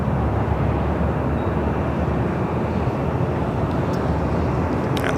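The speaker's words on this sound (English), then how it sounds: "I have a Hawaiian A321 Neo lined up 24 left" A Hawaiian Airlines Airbus A321neo lined up on runway 24 left at LAX, heard as a loud, continuous broadband engine roar holding steady throughout.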